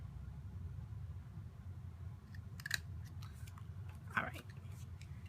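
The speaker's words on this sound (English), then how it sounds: "And cut that banner piece." Scissors cutting a paper banner piece for a Stampin' Up! pillow box treat, two short crisp snips standing out over a low steady room hum.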